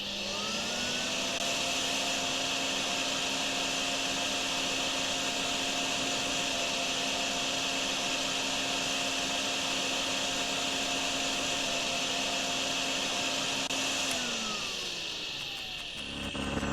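A vacuum runs steadily in the DrainSim sewer-cleaning game, a loud continuous whine with a low hum that holds for about fourteen seconds, then winds down as the motor spins off near the end.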